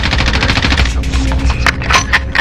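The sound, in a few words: machine gun fire in Warzone video game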